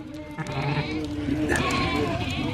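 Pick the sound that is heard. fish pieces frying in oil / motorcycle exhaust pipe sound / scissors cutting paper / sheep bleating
sheep bleating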